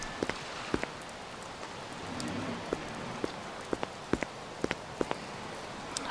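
Rain in the video game Overclocked, set in a storm over New York: a steady hiss of rain on surfaces with scattered sharp droplet ticks and faint footsteps, moderately close, no talking.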